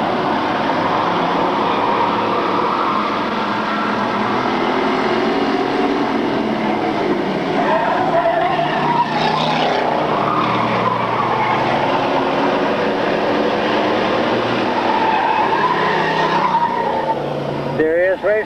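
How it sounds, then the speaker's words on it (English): Race cars roar around an oval track at a 1997 race, a steady wash of engine noise at moderate distance with rising and falling pitch as cars pass. An announcer talks over it. "first position, folks, the number 9 car, Brian Quillen, and the 82 of Bill McLean"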